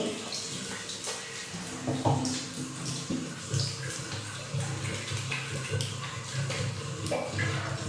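Tap water runs and splashes steadily at a sink during a face wash with soap and rice flour, with a continuous faint rush broken by occasional drips and hand splashes.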